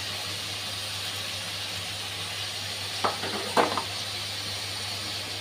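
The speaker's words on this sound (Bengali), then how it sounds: "দুধটা ফুটে উঠেছে। এখন আমি ধুয়ে রাখা গোবিন্দভোগ চালটা দিয়ে দিচ্ছি।" Washed Gobindobhog rice tipped into boiling milk for payesh, over a constant soft simmering hiss with a couple of brief clinks and rustles of stirring near the end.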